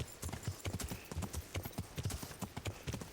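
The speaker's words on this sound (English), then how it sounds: "I may as well run there with my horse since horsemanship will level up pretty soon here" A horse gallops in the medieval video game Kingdom Come: Deliverance, steady rapid hoofbeats close and loud throughout with no talking.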